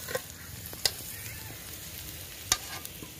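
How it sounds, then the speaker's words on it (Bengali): Potato pieces fry in oil in a wok with a soft, steady sizzle, punctuated by a few sharp clinks of a utensil stirring or scraping the pan. "আলুগুলো লাল লাল করে ভেজে নিচ্ছি"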